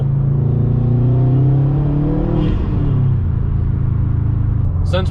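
A 2021 Subaru WRX STI with an RK titanium track exhaust and stock downpipe pulls on the highway from inside the cabin, windows up, its engine rumbling steadily as it rises in pitch.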